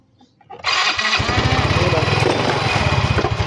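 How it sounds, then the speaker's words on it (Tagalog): A Yamaha Mio i 125 scooter with a weak battery fires up on its push-button starter: a short whirring crank, then the engine catches into a steady, loud, close idle with a fast rhythmic putter. "Umandar na yung kanyang push button."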